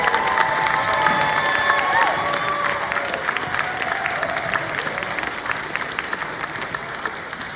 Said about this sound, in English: I just want to ask for a round of applause for these fantastic filmmakers